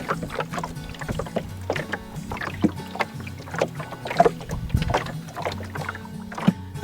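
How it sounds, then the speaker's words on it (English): Water slaps and gurgles against a small wooden boat hull in uneven, close splashes, with a low steady rumble underneath. "I couldn't get that sound of water lapping on a wooden hull out of my head"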